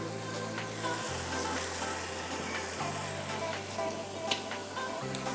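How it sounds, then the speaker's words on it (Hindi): Potatoes fry in a pan with a soft, continuous sizzle at low level, close by and steady, with a faint low hum underneath and no one talking. "बस आलू मुझे अब करने हैं फ्राई।"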